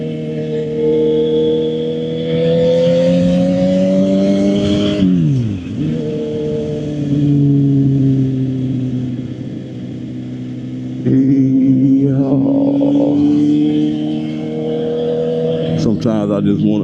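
A Suzuki GSX-R 750 motorcycle rides through a neighborhood, its engine climbing through gears with rising whine, dropping at shifts, then pulling again, heard close and loud throughout.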